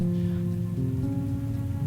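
Rain falling at night in the horror game Man I Just Wanna Go Home, a steady dense patter on the road and car, with a low constant hum beneath it, no voices.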